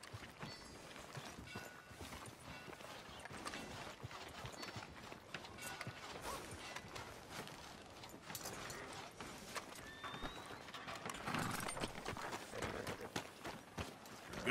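Horse hooves clip-clopping in Red Dead Redemption 2, a steady run of hoofbeats through a busy town street with ambient game sounds layered around them.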